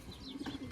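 Pigeons cooing nearby in a soft, repeated low murmur, with occasional faint bird calls above and a voice calling in the background.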